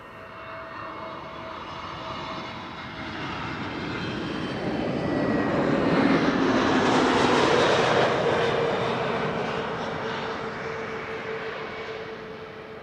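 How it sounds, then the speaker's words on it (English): A British Airways A320neo arriving at Amsterdam Schiphol from London Heathrow roars in, its engine noise swelling to a loud peak midway as it passes overhead, then fading gradually, with no voices. "BA flight 430 arriving from London Heathrow, A320neo"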